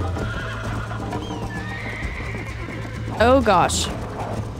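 Horse from Red Dead Redemption whinnying loudly near the end over a steady in-game rumble, with someone talking briefly; hoofbeats of the gallop are not clearly separable.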